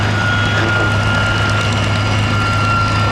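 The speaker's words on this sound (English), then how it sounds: "As these two jets taxi out" Steady, loud jet engine roar with a constant high whine, as a MiG-15 and a de Havilland Vampire jet taxi nearby at Duxford airfield; no voices.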